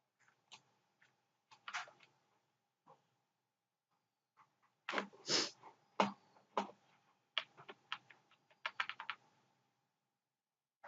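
Scattered keystrokes on a computer keyboard, with isolated taps building into a denser burst of fast typing midway, fairly quiet and close in a quiet room with no speech.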